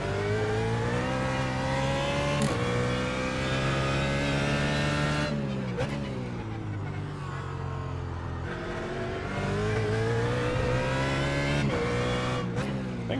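A BMW GT3 race car engine at Oran Park in iRacing roars loud and close. Its pitch climbs steadily and then drops sharply at gear changes and braking, repeating several times.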